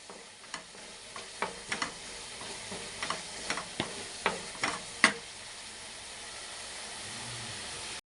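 Gojju paste with sambar powder fries in a pan. A gentle, quiet sizzle runs underneath as a spoon scrapes and taps against the pan in a string of sharp, irregular strokes, and no one speaks.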